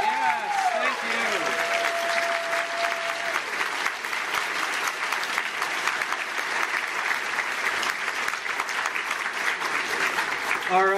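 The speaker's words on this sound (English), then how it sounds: "how about a little round of applause for folks like" Sustained applause from a large banquet crowd at a gaming convention, steady and loud for the whole stretch, with a voice briefly audible at the start.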